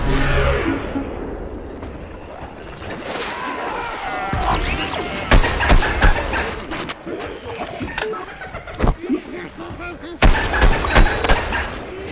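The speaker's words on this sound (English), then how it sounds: "the scientist just threw his sticky explodey ball. It'll stick to the world, it'll also stick to enemies before exploding" The scientist's sticky explosive ball detonating in the Plants vs. Zombies Garden Warfare video game: sharp blasts and gunfire-like cracks burst out over several seconds amid busy battle noise, with an announcer talking over the action.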